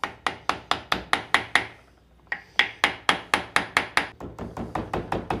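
A hammer taps out a dent in metal in a steady series of sharp, ringing blows, about three per second, close and loud, with a short pause before the rhythm resumes.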